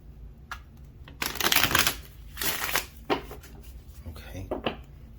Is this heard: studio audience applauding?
no